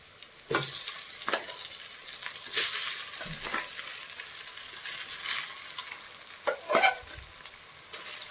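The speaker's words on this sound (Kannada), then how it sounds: "ಈಗ ರೈಸ್ ಹಾಕ್ಕೋತಾ ಇದ್ದೀನಿ" Rice tipped into a hot pan and stirred with garlic and chilli paste, giving a soft background sizzle broken by a few scraping stirs and spoon clanks, with no talk.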